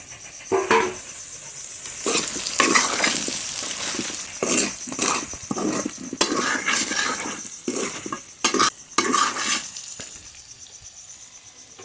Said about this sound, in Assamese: কিছু সময় এনেকৈ ভাজি থাকিম